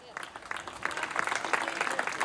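Applause for a young award recipient at a ceremony in Venice, a short, fairly quiet burst of clapping from a small crowd that builds slightly, with faint voices underneath.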